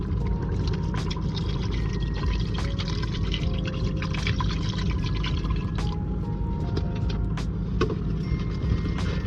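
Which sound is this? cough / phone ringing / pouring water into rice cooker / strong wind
pouring water into rice cooker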